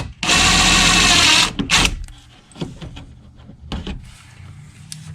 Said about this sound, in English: I'm going to pop a hole in this plastic housing.